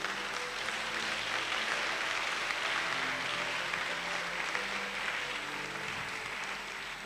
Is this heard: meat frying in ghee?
no